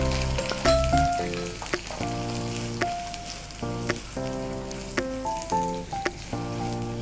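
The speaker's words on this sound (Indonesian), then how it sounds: "Kita tumis lagi sampai layu, sampai wangi, sampai layu ya" Sliced onion and softened lime leaves sauté in a pan with a steady, moderate sizzle and a few stirring clinks, heard without anyone speaking.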